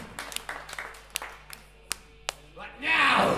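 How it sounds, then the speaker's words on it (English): Sparse, separate claps from a live metal festival crowd give way to a swelling, louder roar of applause and cheering near the end, with a low hum underneath. "Give him an applause!"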